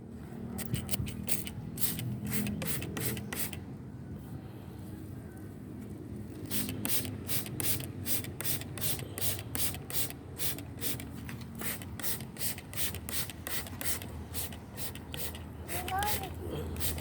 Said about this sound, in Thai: แล้วก็จะทำการฉีดไปเลยนะครับ